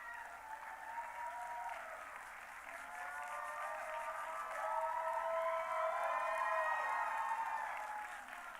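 A large audience at a pharmacy graduation ceremony bursts into loud, sustained applause mixed with whoops and cheering voices. The sound is steady throughout and swells toward the end.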